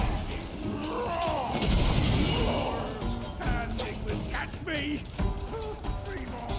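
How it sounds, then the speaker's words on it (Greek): Bombs thrown by an enemy explode during a boss fight in the video game Black Myth: Wukong, heavy booming blasts and crashing impacts over a dense, continuous battle soundtrack, with a voice talking throughout. "Είμαι αρκετά σίγουρος πως ο άλλος μου πετάει βόμβες."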